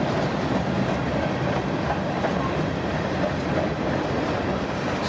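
A CPKC freight train with cylinder hoppers passes close by in a loud, continuous roar of rolling wheels and clickety-clack rail noise with no break.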